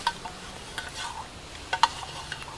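Boiled rosehip being mashed in a pot gives soft, faint scraping and stirring sounds, with a few sharper clinks of a utensil against the vessel.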